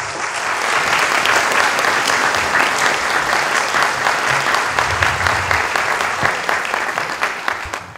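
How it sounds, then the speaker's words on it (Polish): An audience at a charity concert gives a loud, sustained round of applause for a young performer, a thick, even wash of clapping lasting throughout. "I też wielkie brawa dla tej młodej wykonawczyni."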